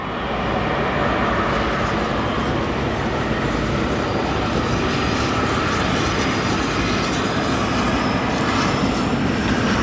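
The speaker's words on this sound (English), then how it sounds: "Let's listen to these beautiful GE90 engines as they spool up on their way to Korea." GE90 turbofans on a long-haul airliner at Chicago O'Hare, bound for Korea, roar steadily with a broad, loud rumble and a faint high whine held throughout, no talk.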